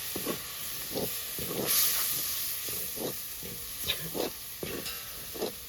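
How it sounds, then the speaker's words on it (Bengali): Spice paste with green chilli paste being fried and stirred in a pan for fish cutlets, giving a steady hiss with repeated soft scraping strokes close by, no voices. "আর দেবো লঙ্কা বাটা ভালো করে মশলাটা কষিয়ে নেব"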